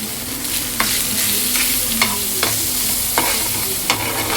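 Fish fries in oil with a loud, constant crackling sizzle up close, punctuated by a few sharp clicks and spatters at uneven intervals; no speech.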